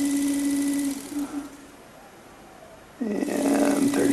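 A small electric motor runs from a Longwei 10A, 30V bench power supply with a steady close hum. It drops away for about two seconds and then comes back louder.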